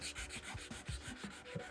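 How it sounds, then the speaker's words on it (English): Fine sandpaper rubs along the grain of a wooden banister part in quick, steady back-and-forth strokes, a soft continuous scratchy hiss pulsing with each pass, close and fairly quiet. "you want a nice fine sandpaper, and you always sand with the grain"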